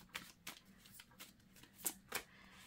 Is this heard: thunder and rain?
no